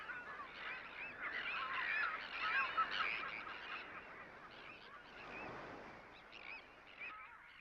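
A large colony of geese honking in a coastal wetland marsh, a dense chorus of overlapping calls at moderate distance, fairly faint, with a soft wash of background sound beneath.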